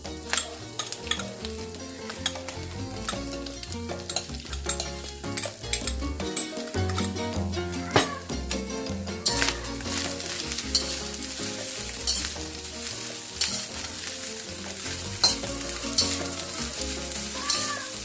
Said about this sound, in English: And we'll let that fry here so we get a nice color to the rice.